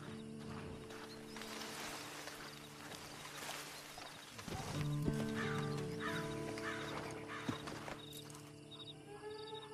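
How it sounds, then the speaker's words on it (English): A horse in the Red Dead Redemption video game clops along steadily, its hooves sitting in a dense bed of in-game ambience and music-like tones. "And you better get on this horse."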